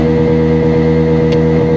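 A TVS Apache N160 motorcycle engine, a BS6 2.0 model, drones loud and close at a high, steady pitch, with a faint light tick near the end.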